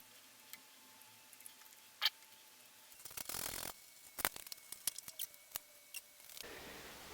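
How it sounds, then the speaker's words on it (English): Small plastic wings being trimmed off an LED with a cutting tool during motorbike security wiring: a few faint, close snips and clicks, scattered irregularly over a quiet background. "I'm just going to trim these little wings off to get the LED in here."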